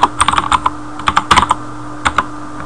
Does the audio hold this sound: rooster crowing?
no